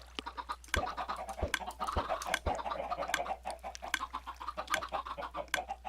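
Several Minecraft chickens cluck and squawk continuously, close by, with occasional sharp taps in between.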